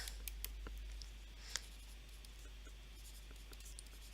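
Pen or pencil writing on paper during a linear programming math lesson, a faint scratchy rustle with a few light taps, quiet over a low electrical hum, no voices.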